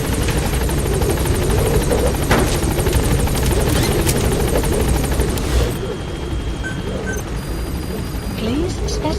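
A helicopter in Metal Gear Solid V: The Phantom Pain thunders loudly and steadily on approach to a landing zone, rotor chop filling the sound before easing slightly, with a radio voice over it.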